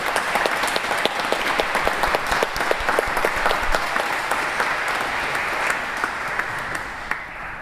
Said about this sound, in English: it is appropriate now to give God an offering of applause, thanking God for her ministry among us